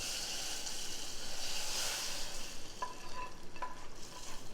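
Hot tadka tempering sizzling as it is stirred into cooked chana dal on the stove, a soft continuous frying hiss with a few light scraping clinks.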